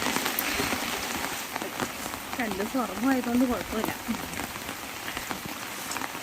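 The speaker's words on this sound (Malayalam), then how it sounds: "നല്ല മഴയാണ്." Heavy rain hisses and patters steadily on a surface the whole time, while a voice speaks briefly in the middle.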